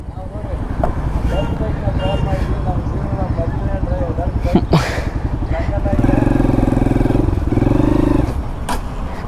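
An adventure motorcycle engine idles close by with a throbbing exhaust beat, then revs up in two strong bursts, while voices can be heard in the background.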